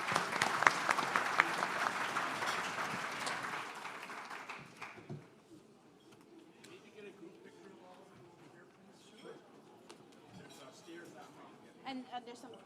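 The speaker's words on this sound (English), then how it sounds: "a big round of applause for our panelists" A summit audience applauds panelists: loud, dense clapping for about four seconds that tapers off, leaving a quieter room with scattered claps, shuffling and faint murmuring voices.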